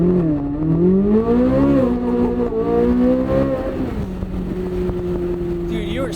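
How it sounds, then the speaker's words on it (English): Chevrolet Corvette C8 Z06 exhaust note, a naturally aspirated V8 rising and falling in pitch as the engine revs and then settles to a steady drone, loud and close, with a brief scrape near the end. "Chevy knocked it out of the park with this exhaust"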